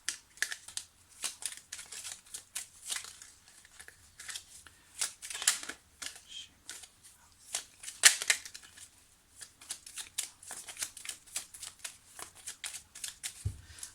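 Tarot cards being shuffled and cut by hand, soft papery riffles and taps coming in irregular bursts, quiet and close, with a sharper snap midway.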